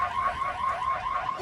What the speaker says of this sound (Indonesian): alarm bahaya berbunyi